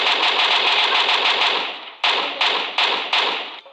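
Gunfire in an online shooter video game: a sustained burst of rapid automatic fire, then four separate loud, sharp shots in quick succession, close and with no voices.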